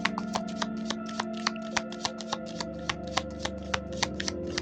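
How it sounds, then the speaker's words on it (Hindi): Tarot cards being shuffled by hand, a quick steady run of crisp riffling snaps repeating roughly every quarter second, close and clear over a low background hum. "let me shuffle more"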